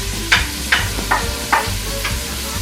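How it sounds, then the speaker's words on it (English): Onions sauté in melted butter on a stovetop, a close steady sizzle marked by five evenly spaced scraping strokes of stirring. "We've melted our butter here on the stove, and I'm going to put in the onions"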